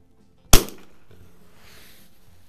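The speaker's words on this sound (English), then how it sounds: "love shooting these old 22s." A single sharp, close crack from a 1940s Savage model 3C bolt-action single-shot .22 rifle is followed by a short decaying echo.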